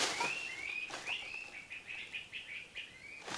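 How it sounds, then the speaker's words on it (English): Several birds chirping outdoors near a cabin, a string of short bright tweets and whistled calls repeating in a quick, uneven rhythm, fairly close and clear with no talking. "Birds."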